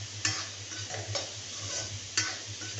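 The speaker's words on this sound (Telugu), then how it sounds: "ఇలా నూనెలో ఫ్రై చేసుకొని నూనె అంతా పైకి వచ్చేలాగా మగ్గించుకోవాలి మనము" Ridge gourd curry fries in oil in a pan, giving a soft continuous sizzle over a low steady hum. A few sharp spoon scrapes and knocks punctuate it as the curry is stirred, and there is no talking.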